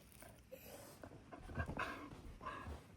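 A dog pants and snuffles with toys just found in a garage, soft and close, in short uneven bursts over a quiet background.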